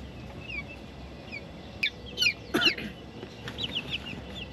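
Chickens cluck in short scattered bursts against a steady outdoor background, with a few sharper calls close by; no one speaks.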